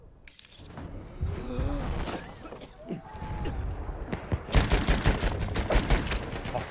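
A Chauchat light machine gun fires in Battlefield 1 with bursts of sharp, rapid shots that grow denser toward the end, mixed with other battlefield noise and some brief voices.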